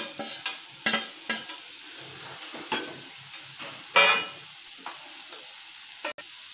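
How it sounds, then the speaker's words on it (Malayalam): Boiled, chopped potatoes are stirred in a hot pan. Soft sizzling sits under a series of sharp, separate scraping and clacking stirs, close and moderately loud. "നന്നായിട്ടൊന്ന് മിക്സാക്കി കൊടുക്കുക."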